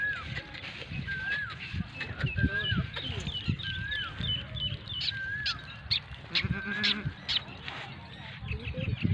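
Goats bleating on a goat farm in Pakistan, repeated wavering cries from several animals at a moderate distance, with someone talking and handling the herd underneath.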